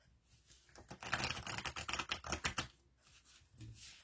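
Oracle cards being shuffled by hand, a dense run of quick papery riffling clicks that swells, fades, then returns briefly, close and fairly quiet with no talking.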